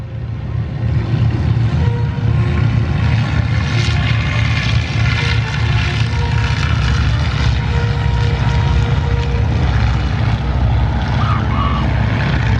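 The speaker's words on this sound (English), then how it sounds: "That's because he has that Lycoming 300 horsepower engine, variable pitch propeller." Propeller airplanes with 300-horsepower Lycoming engines and variable-pitch propellers take off at an airshow, a loud continuous droning engine roar that holds steady throughout.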